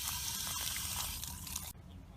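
Water pours steadily from a hose nozzle into a tank, a close, quiet rushing flow that cuts off abruptly near the end, leaving only faint room hiss.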